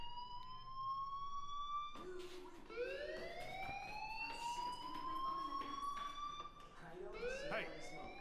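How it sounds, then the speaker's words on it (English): A wailing, siren-like fire alarm from the video game Life is Strange, with rising tones that sweep and repeat loudly over steady background music throughout. "Hey, do you hear that fire alarm?"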